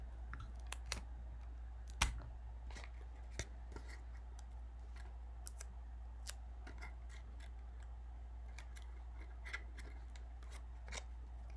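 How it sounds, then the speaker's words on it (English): Scissors snip tape on a paper folding spectrometer, a string of small sharp cuts and clicks at irregular intervals over a low steady hum, close and quiet. "I can cut that off too if it sticks out too much."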